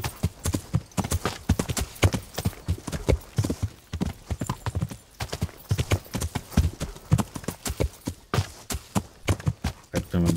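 Horse hooves clip-clop in a steady, rhythmic gait while riding uphill through rough terrain in the medieval game Kingdom Come: Deliverance, loud and close, with an occasional faint whinny.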